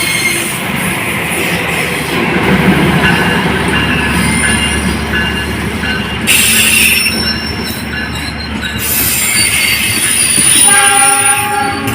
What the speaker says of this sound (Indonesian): Kereta api Taksaka ini berhenti di stasiun Cibatu, masuk jalur 4.